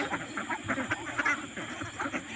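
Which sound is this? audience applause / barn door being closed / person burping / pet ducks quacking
pet ducks quacking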